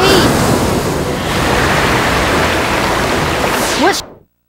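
A water spell in the video game Arc Rise Fantasia summons crashing waves: a loud, continuous rushing surge of wave noise that fills the whole moment, then cuts off abruptly at the end.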